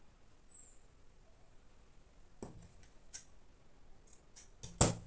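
Scissors snip through shirt fabric while cutting out a notched collar piece, giving a few short, quiet crisp cuts spaced apart and ending in one louder close snip, with no talking.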